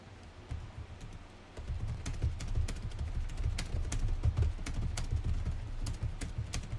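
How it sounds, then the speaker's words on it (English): Fast typing on a computer keyboard, a close, continuous patter of sharp key clicks with irregular louder strokes over a low background hum, with no talking. "I was typing all fast"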